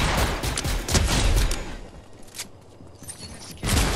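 Bursts of video game gunfire crack close and loud in rapid volleys, with several sharp clustered shots at the start, a quieter gap in the middle, then another heavy burst at the end.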